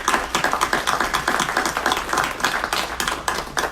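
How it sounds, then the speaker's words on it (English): Steady applause from the audience at a city council meeting, a dense continuous patter of many hands clapping at moderate distance with no talk over it. "Let's give them a round of applause."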